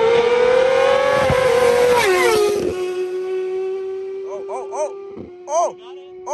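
A Suzuki GSX-R 1000 motorcycle running on E85 screams at full throttle near 198 mph, its engine note climbing loud and high, then easing into a steady drone as excited voices break in over it.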